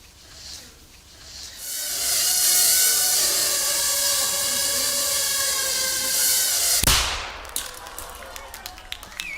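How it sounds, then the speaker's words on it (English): A 3-gram shaped explosive charge goes off with a small bang. A long rushing hiss builds for several seconds and ends in one sharp crack, followed by scattered light clicks. Voices are faintly present. "That little bang is enough to penetrate the skull and destroy the contents."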